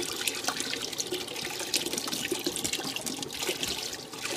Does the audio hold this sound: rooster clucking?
no